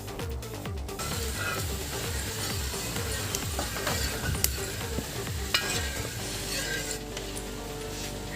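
Coconut milk being stirred into carrot payasam in a pan, a steady scraping and sloshing stir with light sizzling and occasional clinks of the spoon throughout.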